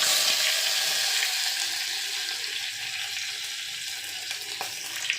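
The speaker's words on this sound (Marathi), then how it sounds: "तेल गरम झाले की आता त्याच्यामध्ये जिरं टाकणार आहे। तर ह्याच्यामध्ये लसूण टाकणार आहे।" Garlic and cumin seeds sizzle in hot oil with a steady, bright crackle that fades slightly, with occasional light stirring clicks near the end.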